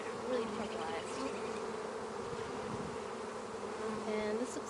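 Honey bees buzz steadily and close during a hive inspection of an overwintered colony, a dense droning hum with individual bees whining past near the beekeeper's veil.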